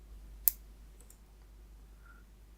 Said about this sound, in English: I personally kind of snap my nails because I can't snap my fingers